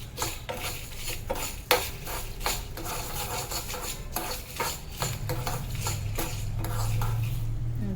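Fenugreek seeds are stirred in a pan as they roast, producing a steady run of close, scraping and clinking strokes of a utensil against metal over a low stove hum, with no voices.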